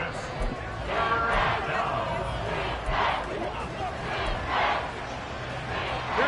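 Stadium crowd roar in a Madden 24 football game, a steady loud swell of cheering and noise from fans trying to force a false start on third and inches, continuous throughout with rising bursts.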